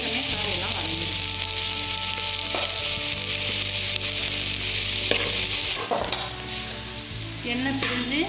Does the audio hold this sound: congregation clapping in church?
no